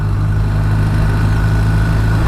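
A 2019 BMW R1250RT motorcycle engine runs at a steady idle, a loud, even low hum with a constant throb and no change in pitch, heard alone without talk.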